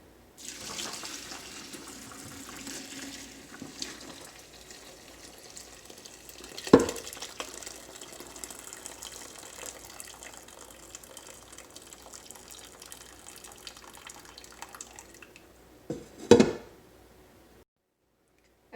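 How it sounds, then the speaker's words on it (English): Hot vegetable broth poured into a strainer, a long steady liquid rush and splash that runs for most of the clip, with two sharp clanks of a pot or utensil and no talking. "So I'm going to go ahead and get my broth, bring it on over,"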